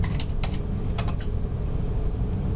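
A computer keyboard being typed on at a terminal: a handful of quick, crisp keystrokes in an uneven burst, close up, over a steady low background hum.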